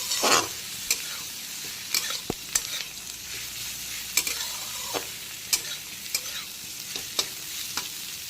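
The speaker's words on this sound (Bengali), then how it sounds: "রসুনগুলোকেও ভালো করে ভাজা ভাজা করে নেব" Crushed garlic fries in a pan with onion and green chili for a ladyfinger curry: a continuous sizzle broken by about a dozen sharp spatula scrapes and taps at irregular intervals, with no voices.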